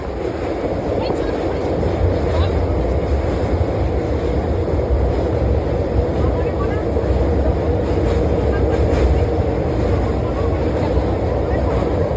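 Steady low rumble of a train approaching Naihati station, with continuous rattling and wind noise, loud and close throughout, no distinct braking or stopping.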